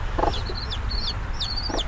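Chickens cluck softly nearby while high chirps from chicks flit above, a short busy farmyard moment with no talking.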